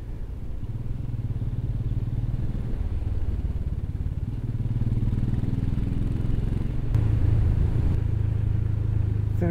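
A motorcycle rides through vineyard country in Spain or Portugal with a steady, close engine drone and low rumble, rising slightly in pitch partway through, alone without talk.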